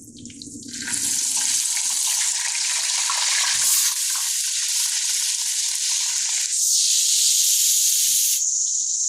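Fennel seeds roast in hot oil with a steady, loud, close sizzle and hiss that holds without pause after a brief quieter start.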